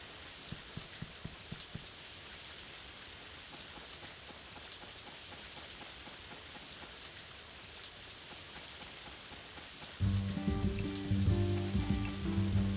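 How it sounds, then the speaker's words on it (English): Steady hiss of falling rain in the farming game Story of Seasons: A Wonderful Life, a dense crackling patter much like food sizzling, constant and moderately quiet, with game music joining near the end. "The weird thing about the rain sound effect in this game is it doesn't sound like rain"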